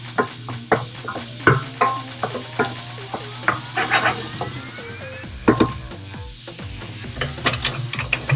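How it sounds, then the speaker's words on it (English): Vegetables sauté in a stainless steel pan, soft sizzling under repeated scraping and tapping from a spatula stirring, with clattering utensil knocks spread through the whole stretch. "I'm gonna saute them for like 2 to 3 minutes and then add the potatoes"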